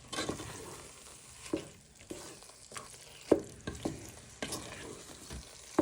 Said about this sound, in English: Now you want to add in all your Parmesan. Give that a good stir.